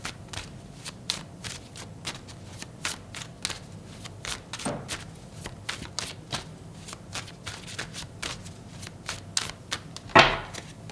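Tarot cards shuffled by hand and pulled from the deck: a steady run of crisp, rapid riffling flicks and soft slides, close and fairly quiet, ending in a sharper snap near the end, with no talking.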